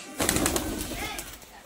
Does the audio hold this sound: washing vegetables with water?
no